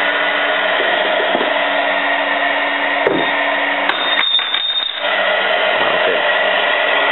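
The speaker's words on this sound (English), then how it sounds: "I will place the standard aluminium bar onto the coil and stand back to observe the power intensity." Magnetic pulser rated at 500 volts firing on an aluminium bar beside a blowing fan, heard as a steady loud electrical hum and whir, with a brief crackling buzz in the middle.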